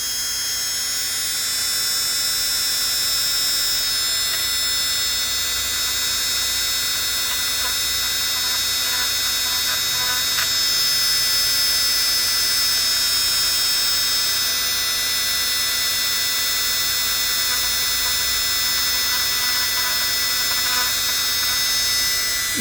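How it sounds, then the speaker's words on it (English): A rotary tool fitted with a pointed carbide bit runs steadily at low speed, a constant close high-pitched whine that holds evenly without pauses. "Needly pointy carbide bit is attached to the rotary tool. You do not need high speed for this."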